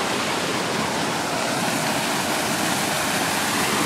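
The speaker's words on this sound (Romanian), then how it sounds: "O cascadă." Steady, full-spectrum rush of water from a waterfall fountain in Rome, splashing continuously and loudly at close range with no talk over it.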